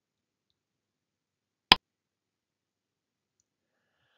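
A single sharp computer mouse click, isolated in near silence.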